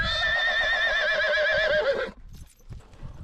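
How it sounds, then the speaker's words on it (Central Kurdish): An Arabian-Iranian crossbreed horse gives a loud, close whinny lasting about two seconds, then falls quiet as softer thuds and shuffling noises follow. "کۆلاسیا ئەسپێکی دووڕەگی عەرەبی و ئێرانیە"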